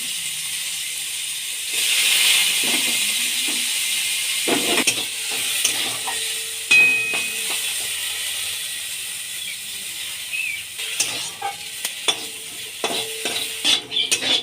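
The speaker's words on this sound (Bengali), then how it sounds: "তেলটা গরম হয়ে যাবার পর ওতে কুচনো আলুগুলো ভেজে নেব।" Chopped potatoes fry in hot mustard oil in a kadai, giving a soft steady sizzle with intermittent scraping and stirring clatter from a utensil, fairly quiet and with no talking.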